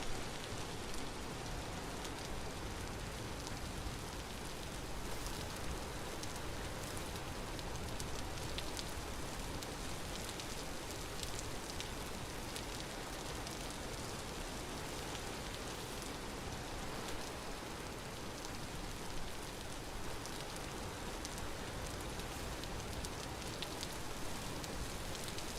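Steady rain falling in the Vintage Story video game, a constant even hiss of drops on surfaces at a quiet, unbroken level with no talk.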